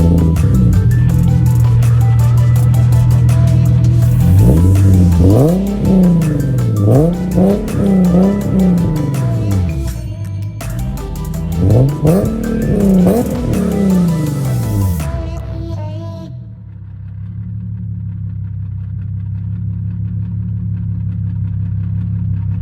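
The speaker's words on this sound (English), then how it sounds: "I have a ISR resonated test pipes, ISR white pipe, and ISR single exit. I really like the way it sounds." A Nissan VQ engine fitted with ISR resonated test pipes and an ISR single exit exhaust revs hard through repeated loud rising and falling sweeps, then settles to a steady idle rumble.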